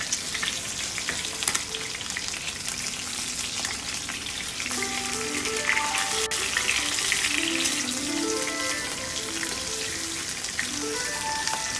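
Fish fries in coconut oil and ghee for a Kerala Moplah biryani, with a loud, dense, continuous sizzle and crackle close up, while faint tonal background sounds drift underneath.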